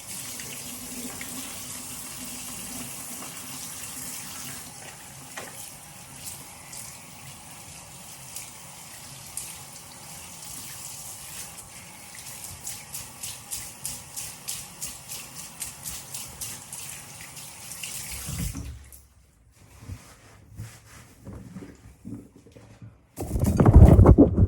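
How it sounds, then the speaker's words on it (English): Hands are washed under a running bathroom tap, a steady hiss of water with splashing and rubbing for about twenty seconds, then the flow stops and a few louder clunks follow. "I'm gonna wash my hands."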